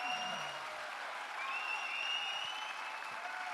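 An audience in a hall at a political party event applauds the woman who made the clip, a steady sustained wash of clapping heard from a slight distance.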